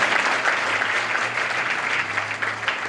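An audience at a student felicitation ceremony gives a loud round of applause, a dense continuous clatter of many hands with a low hum running underneath.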